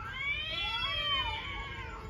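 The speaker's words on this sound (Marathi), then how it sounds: "इकडं मांजरांची भांडणं" Cats fighting and caterwauling, with long wavering yowls that rise and fall together over steady low background noise, no talk.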